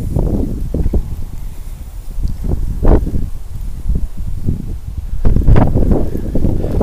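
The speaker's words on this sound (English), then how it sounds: "The wind took my fucking drone." Strong outdoor wind gusts buffeting the microphone in loud, uneven rumbling bursts that surge and fade over several seconds, with the heaviest blast near the end.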